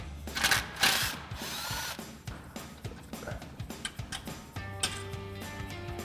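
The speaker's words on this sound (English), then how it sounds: "We'll grab our 10 mil socket on our impact and take that bolt out." An impact wrench with a 10 mm socket hammers out a bolt on a Jeep Wrangler JK during a suspension lift install, giving close bursts of rapid rattling impacts and short pauses between them.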